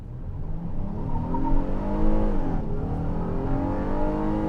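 A 2021 Honda Odyssey minivan in sport mode with traction control on, launched hard from a torque brake: a loud, continuous engine roar that climbs steadily in pitch with a brief dip partway through, close and alone.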